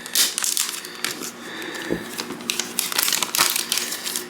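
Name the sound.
peeling sticker off iPhone 12 Pro Max box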